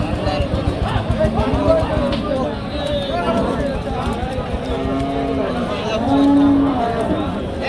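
Cows mooing amid a busy livestock market at Satmile, with people talking loudly nearby and a long low moo standing out near the end.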